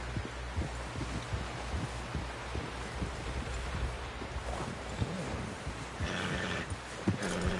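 A horse in the Red Dead Redemption 2 video game, with soft rhythmic hoof clops and rustling movement throughout and a faint whinny-like sound near the end, fairly quiet and without talk.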